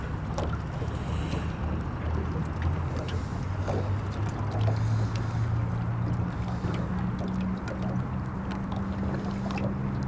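Boats on Lake Tan: a steady low engine drone beneath wind buffeting and splashing water, continuous and moderately loud outdoors.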